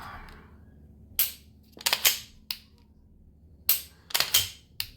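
The trigger of a Gforce RPX9 pistol is dry-fired, giving sharp, close striker clicks in small clusters of two and three with quiet gaps between them.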